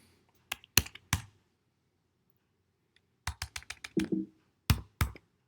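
A computer keyboard is typed on in short bursts of crisp clicks, with a two-second silent pause between bursts, close and alone, with no talking.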